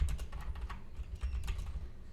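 Steady clicking of keys on a computer keyboard as JavaScript code is typed, a quick uneven patter of taps close by with no voices.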